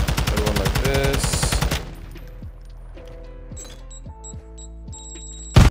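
Automatic weapon fired in a first-person shooter video game: a loud, rapid burst of repeated shots for nearly two seconds, followed by quieter metallic clicks and ringing tones, then one sharp blast near the end.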